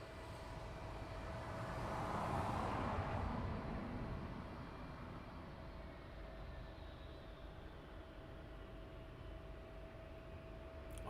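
An aircraft taxiing at East Midlands Airport at night gives a steady, distant engine roar and broadband rush, swelling slightly early on and then holding level, with a faint tone running through it.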